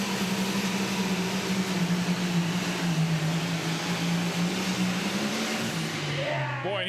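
The engine of a Limited Pro Stock pulling tractor, an Old School International, holds a steady, loud drone whose pitch sags near the end, with an announcer talking over it.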